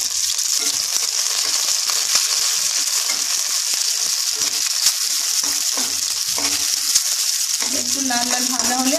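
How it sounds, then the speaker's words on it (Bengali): Sliced onion and slit green chillies fry in mustard oil in a pan, a loud, steady, close hiss and crackle of sizzling with occasional stirring clinks and a brief voice near the end. "এইবারে আমি একটু পেঁয়াজ ফোড়ন দেবো, কাঁচা লঙ্কা চিরে দিয়েছি"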